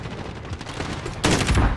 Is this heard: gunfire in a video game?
yes